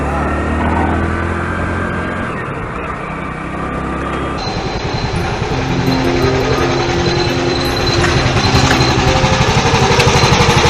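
A motorcycle engine runs loud and close throughout, its rough idle rising into a stronger, busier rumble partway through as the bike pulls away.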